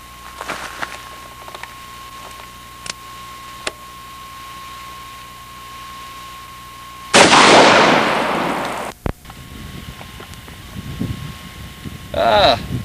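A single loud .44 Magnum gunshot cracks outdoors, a sharp blast followed by a rushing, decaying roar, set among sparse clicks and faint background sounds.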